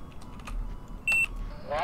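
A short, clear electronic beep sounds once as a misalignment alarm while a spacecraft is docked in Kerbal Space Program. It rises above faint background clicks and a soft tone.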